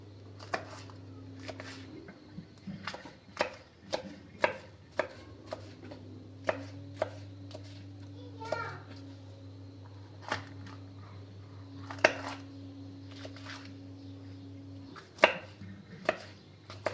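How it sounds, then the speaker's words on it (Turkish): Red capsicum peppers minced with a zırh, the curved two-handled knife, on a board: sharp rhythmic chopping strikes, irregular in pace, close and crisp over a low steady hum. "Kapyayı da aynı şekilde böyle ufaltıp zırhtan geçireceğim."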